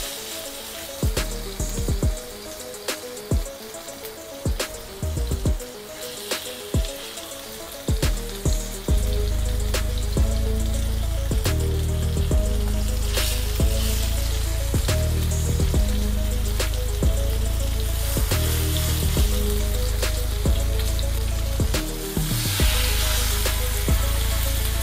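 Marinated fish pieces drop into hot oil with garlic and fry in a loud, steady sizzle, beginning with some clatter and bursts before settling into a continuous crackling hiss that carries through to the end.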